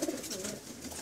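Pigeons of a prized breed in a loft in Casablanca coo softly, a low wavering murmur that rises and falls in a brief stretch, fairly quiet with no voices over it.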